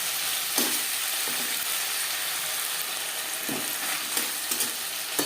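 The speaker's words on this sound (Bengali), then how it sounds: "কাঁচা গন্ধ যাওয়া পর্যন্ত নাড়াচাড়া করে নেবে" Ginger and green chilies stir-fried in a little oil for a cabbage ghonto, with a steady close sizzle broken by several scraping strokes of a spatula against the pan.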